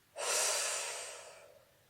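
A single slow, close breath during a guided neck-and-shoulder relaxation exercise, a soft airy exhale that swells quickly and then fades gently over about a second and a half, heard alone with no talking.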